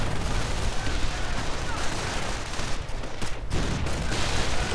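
Sustained, dense machine-gun fire from a World War II strategy video game strafing run, a loud continuous rattle with explosive crackle that barely lets up over nearly five seconds.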